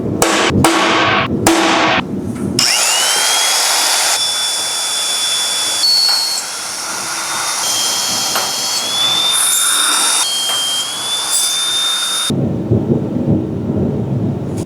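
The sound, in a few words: magnetic drill cutting holes in steel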